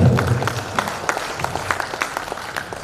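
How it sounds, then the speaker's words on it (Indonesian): A brief round of audience clapping at the PERADIN 2025 national working meeting in Jakarta, sparse individual claps fairly close, moderate in level and thinning out across the short stretch. "Tepuk tangan."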